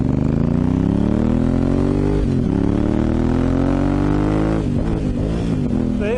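A 2018 Honda Africa Twin motorcycle engine runs loud and close, its steady harmonic drone rising gradually in pitch with revs, dipping briefly midway and again near the end.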